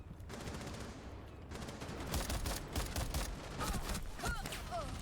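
Repeated gunfire from a video game, a dense run of sharp cracks and bursts that swells after the first couple of seconds and keeps going with loud, near shots over a continuous background rumble.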